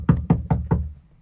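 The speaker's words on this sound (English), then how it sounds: "Are you guys gonna knock on the door?" Four firm, evenly spaced knocks on a door in a student radio play, close and clear, with nothing else heard around them.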